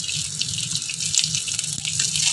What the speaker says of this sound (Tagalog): At maglalagay na tayo ng tubig sa ating kanin